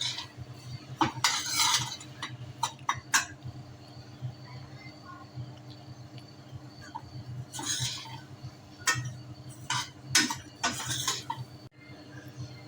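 Cracked wheat lapsi roasting in a pan over a gas flame, a spoon scraping and clinking against the pan in bursts of stirring over a low continuous background hum, up close with no talk.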